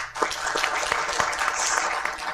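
A short burst of scattered clapping from a small group, uneven and brief, with a noisy room behind it.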